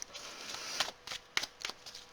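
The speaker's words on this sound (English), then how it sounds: "Just putting a nice shuffle on the cards." Tarot cards are shuffled in several quick riffling bursts, soft papery rustles and flutters close by, quiet and alone.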